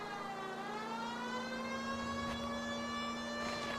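A wailing police car siren from the video game L.A. Noire, a steady harmonic-rich tone sweeping slowly in pitch, loud and continuous with no voices over it.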